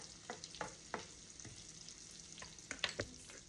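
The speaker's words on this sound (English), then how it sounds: "now we are trying to caramelize our onions here" Onions caramelize in a ceramic pot, a soft low sizzle with a handful of quiet scraping stirs spaced irregularly, fairly faint and close.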